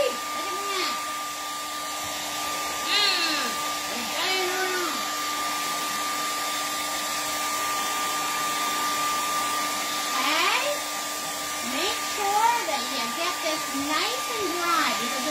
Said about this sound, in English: I am going to grab my little hair dryer